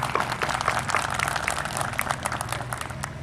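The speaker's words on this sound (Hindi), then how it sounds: "हम एक बार पुनः अनुरोध करेंगे कि उनको तालियों से उनकी हौसला अफजाई की जाए।" Sustained applause from an audience at an SSB battalion anniversary celebration in Lucknow, dense steady clapping throughout with a faint musical hum beneath.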